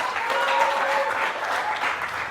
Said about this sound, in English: Ladies and gentlemen, let's give a huge round of applause to Ronald.